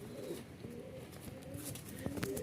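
Pigeons coo in soft, low repeated phrases at close range amid light background noise, with no talking.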